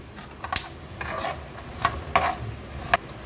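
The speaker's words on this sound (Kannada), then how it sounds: "ಆಮೇಲೆ ಉದ್ದಿನಬೇಳೆ, ನೋಡಿರಿ ಕಡಲೆಬೇಳೆ ಹಾಕ್ತಾಯಿದ್ದೀನಿ" Urad dal and chana dal frying in oil with cumin, stirred in a pan for a festive chitranna: quiet scraping and rustling broken by several sharp, bright clinks of the utensil against metal, no voices.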